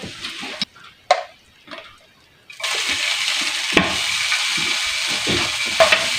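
Vegetables sautéing with tomato and tofu in a pan, a steady close sizzle that rises after a few quiet seconds with stirring, scraping and clinks, no talk.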